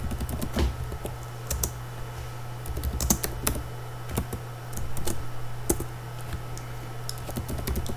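Quick bursts of clicky keystrokes on a computer keyboard come close and alone, with irregular typing rhythm, short pauses, and occasional sharper key taps.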